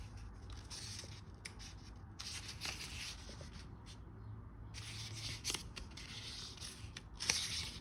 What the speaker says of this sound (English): Let's do a quick flip through.